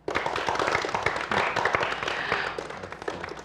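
An audience at an evening show applauds, a dense and steady patter of clapping that holds for several seconds with no let-up.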